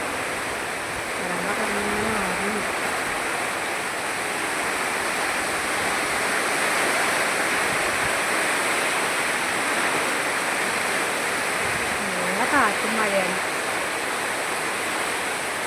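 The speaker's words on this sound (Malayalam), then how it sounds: "നല്ല മഴയും കാറ്റുമാണ് കേട്ടോ" Dense, steady roar of heavy rain with gusting wind, continuous throughout, with a faint distant voice briefly audible.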